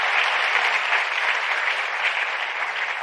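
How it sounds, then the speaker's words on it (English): Audience applause at a science forum closing plenary, a loud, dense and steady burst of many hands clapping together, sustained evenly for a few seconds without speech. "give one round of applause and thank you to these colleagues"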